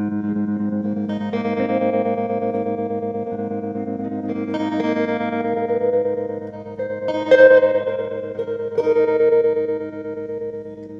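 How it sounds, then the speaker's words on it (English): Electric guitar played through a rig with extreme reverb cranked up, sustained chords ringing into a long, washy tail, with new strums swelling every couple of seconds over a steady, dense bed of sound. "This is extreme reverb."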